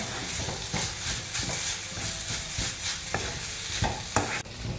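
Carrot halwa frosting cooking on low heat in a pan, with steady soft sizzling and repeated scraping stir strokes of a spoon against the pan, close and continuous.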